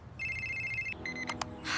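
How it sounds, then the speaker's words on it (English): A phone rings with a steady electronic ringtone, a sustained tone followed by a couple of shorter beeps, clear and close in a quiet room. "Oh, my phone is ringing."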